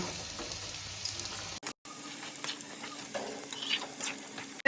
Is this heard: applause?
no